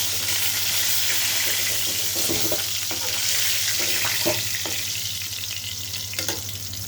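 Rohu fish pieces frying in hot oil in a pan for a green-banana fish curry, a steady loud sizzle with occasional spatters and stirring clinks, no talking.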